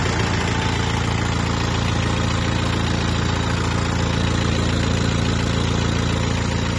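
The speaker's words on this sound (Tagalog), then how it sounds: "Ayan, umaandar na yung makina." A 3-ton forklift engine with an oil leak runs loud and close, giving a steady, rough idle with a constant vibrating rumble and no talking.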